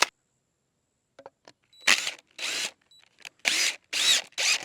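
A drill drives 3-inch exterior deck screws into 2x6 lumber for a mailbox post, several short bursts of whirring separated by pauses, with a few faint clicks before them.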